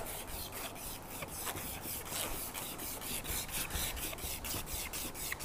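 Paint being rubbed off a metal kettlebell handle by hand, making a steady rhythmic rasping scrub of quick repeated strokes, close and even in loudness, with no speech.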